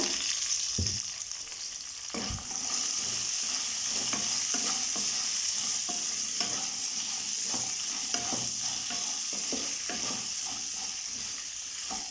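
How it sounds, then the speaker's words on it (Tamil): Okra (ladies finger) frying in hot oil, a steady loud sizzle throughout with occasional scraping stirs and soft knocks of a spatula in the pan; no talking. "இப்போ இதை ஆயிலில் போட்டு ஃப்ரை பண்ணிடலாம்"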